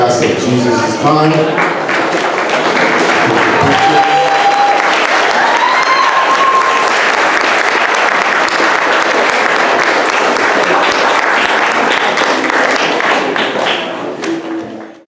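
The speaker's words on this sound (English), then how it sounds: "A round of applause for the cast of Jesus' Time." Loud, prolonged applause from an audience for a cast at a Jehovah's Witnesses gathering, dense clapping sustained for about fifteen seconds with crowd voices and a few whoops mixed in before it fades at the end.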